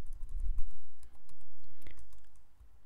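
A search word being typed on a computer keyboard, a quick close burst of clicking keystrokes in a quiet room.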